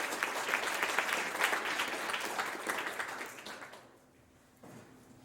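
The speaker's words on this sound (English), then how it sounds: "So, quick welcome round of applause for Linus" An audience at an evening AI talk hosted at Notion gives a welcome round of applause, a dense steady clapping that carries for about four seconds before fading, followed by a quieter faint tail.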